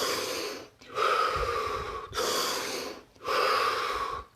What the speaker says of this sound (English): Take 3 deep, deep breaths.